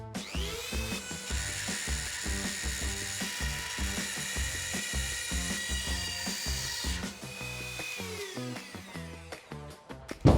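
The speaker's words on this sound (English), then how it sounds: "I'm using the multi-purpose cutting kit instead of a jigsaw" A Dremel running at 30,000 RPM with a multi-purpose cutting kit cuts through laminate flooring, giving a close, high, steady whine over quick rhythmic chattering ticks that ease off briefly near the end.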